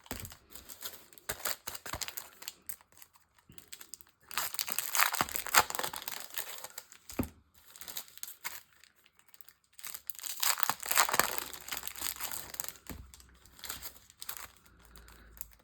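Paper packages being unwrapped up close, with bursts of crinkling, crumpling and tearing paper separated by short pauses, fairly quiet and with no talking.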